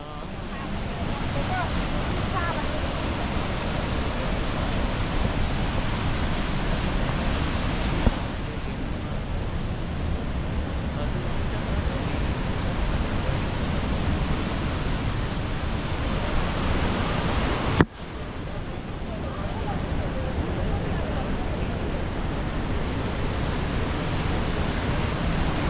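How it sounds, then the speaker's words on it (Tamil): Water rushing with great force from a lake outlet near steps, a loud, unbroken roar of churning water filling the whole stretch, close by, with no clear voices over it. "பட் ரொம்ப தண்ணி ரொம்ப ஃபோர்ஸாக வருது. சவுண்டு பார்த்தீங்கன்னா பயங்கரமாக இருக்குது."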